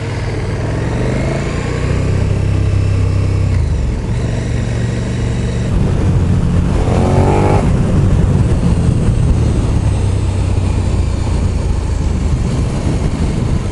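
A 2020 KTM Super Duke R motorcycle pulls away and accelerates on a test ride, a loud, steady engine drone with a brief rising rev partway through, mixed with constant wind rush.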